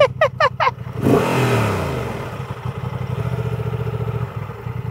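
A motorcycle engine revs hard and then settles into a rough, pulsing idle, loud and close.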